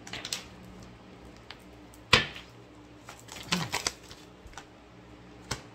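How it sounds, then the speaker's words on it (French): Tarot cards being shuffled and put back in order, a quiet run of soft flicks and taps with one sharper slap near the middle and a few more later, close up, no one talking. "Je remets les cartes dans l'ordre."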